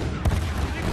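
A short, close burst of gunfire and explosions in a Battlefield 1 battle with a tank nearby: a sharp boom-like crack rises out of a rumbling, noisy battlefield background.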